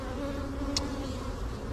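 Honey bees hum around their hives in a soft, steady drone, with one brief louder buzz as a bee passes close by.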